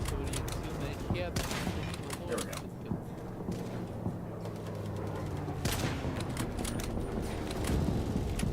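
Gunfire rattles in the video game STALCRAFT: X, with bursts of shots and mechanical clatter running throughout at a fairly steady level.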